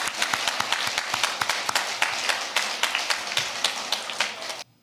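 A church congregation claps together after a baptism, with rapid, distinct hand claps from many people at moderate distance that carry on steadily before stopping abruptly.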